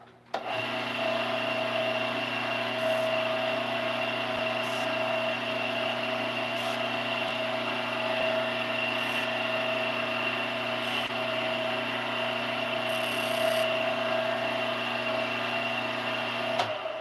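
Wood lathe spinning steadily while a turned piece is parted off, a continuous loud whine with steady engine-like tones and a few brief scraping bursts from the tool, without any speech.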